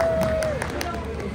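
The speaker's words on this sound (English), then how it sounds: "so far I can only hear one gentleman clapping" A single man claps at a Covent Garden street acrobatics show in London at Christmas, with a few faint, evenly spaced claps under crowd murmur and a steady background tone.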